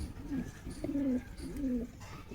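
High-flying pigeons kept at a home loft, giving soft, close, repeated throaty coos in about three short phrases over a brief quiet stretch, with faint background noise and no talk.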